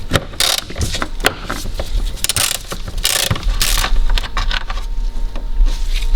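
A hand ratchet clicks as it backs out a 13mm bolt on the airbox of a Grand Caravan 3.6 V6, close rapid pawl clicks in uneven bursts with metallic clunks.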